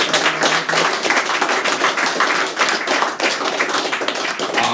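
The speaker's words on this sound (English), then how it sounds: "so can we have a round of applause, please, for Richard?" Sustained audience applause at a live debate event, dense clapping from a sizeable crowd held steady throughout, fairly close and full, with no talking over it.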